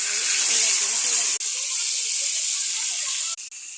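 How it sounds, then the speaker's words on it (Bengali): Pangas fish frying in hot oil gives a loud, steady, close sizzling hiss that cuts out briefly twice. "মাছগুলো কিন্তু সব ভাজতেছি দেখেন"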